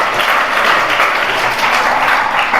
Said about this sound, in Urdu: تو آپ لوگ تھوڑا تالی بجائیں ان کے لیے